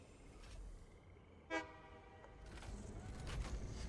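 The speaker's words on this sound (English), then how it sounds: "And the trains are pretty dang quick." A train in the factory-building game Satisfactory sounds a short, sharp horn toot over a steady rumble of wheels and rolling carriages that swells slightly toward the end.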